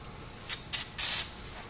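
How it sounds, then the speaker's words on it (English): Brake cleaner sprayed onto Tacoma brakes: three short hissing bursts, the last one longest, close and fairly loud over quiet background. "spray your brakes down with some brake cleaner"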